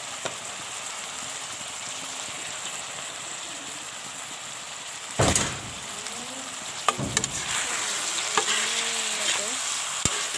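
A home-pounded whole-spice paste with ginger and garlic fries in a pan with a continuous hiss, interrupted by a few loud clattering stirs and scrapes of a spoon near the middle and end.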